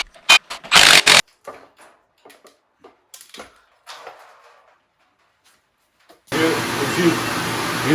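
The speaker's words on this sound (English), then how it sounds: "Use a shop vac for stuff like this." A shop vac kicks on partway through, a loud steady rushing whine after scattered clanks and knocks of tools or parts in a workshop.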